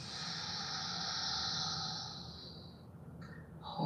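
A long, soft exhale during a guided breathing exercise, a steady airy hiss that swells and then tapers off, close and quiet, with a faint breath or movement at the end.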